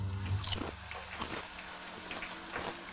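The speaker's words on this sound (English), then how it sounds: "That's a crunchy chip." Crunchy potato chip bitten and chewed up close: a loud crisp snap followed by several dry crackling crunches of chewing, no voices.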